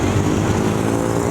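Scooters pass in busy street traffic near Phrom Phong, Bangkok, as a close, continuous low engine drone with no pauses across a brief moment.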